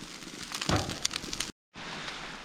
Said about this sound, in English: rain's picking up pretty good now